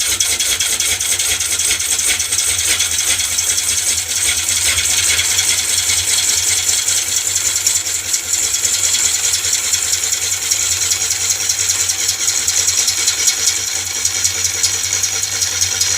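A sycamore bowl blank spins on a wood lathe while a tool pushes a cut around it, producing a continuous close scraping hiss with a fast rhythmic ticking and a low motor drone, steady throughout.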